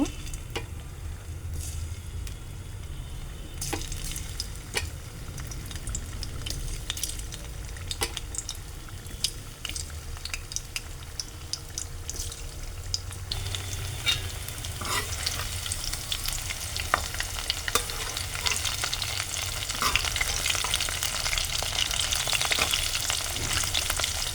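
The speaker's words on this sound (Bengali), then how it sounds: "ফুলকপিগুলো আমি ভেজে নেব" Cauliflower pakoras fry in hot oil with a steady, crackling sizzle that grows louder and fuller toward the end, with no one speaking.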